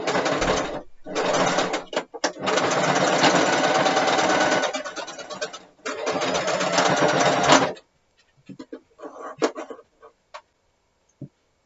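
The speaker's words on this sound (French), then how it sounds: "On va piquer ça à la machine" A sewing machine stitching a hem runs in fast, buzzing bursts for several seconds, with short pauses between them, then stops, leaving faint ticks and handling clicks.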